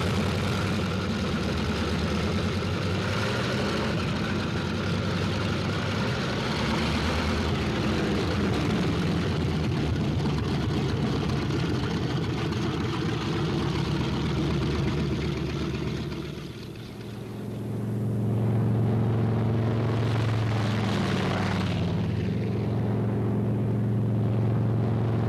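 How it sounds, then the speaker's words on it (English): Heavy propeller engines of P-38 fighter planes rumble and drone steadily as they warm up on an airfield, dipping briefly before a deeper, louder roar resumes; no voices are heard. "On the field, planes warm up."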